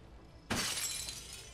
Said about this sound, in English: You just saw a glass break.